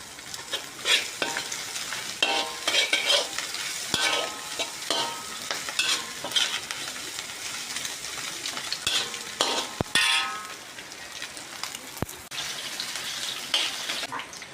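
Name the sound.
frying vegetables and fish in pan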